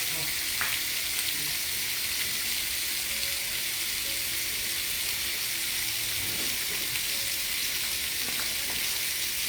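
Shrimp fry in a hot pan with a constant, loud, close hiss of sizzling oil, broken now and then by faint spatula taps.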